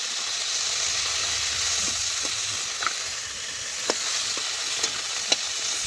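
Cauliflower pieces fry in an oil-filled pan on the stove, giving a steady loud sizzle with a few sharp pops and spatters scattered through, no talking.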